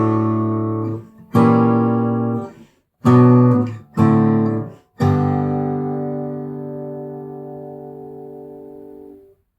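Fingerstyle acoustic guitar arrangement of a song, measures 14 and 15: a few plucked chords with brief pauses between them, then a final chord left ringing and slowly fading, close and clear with no voices.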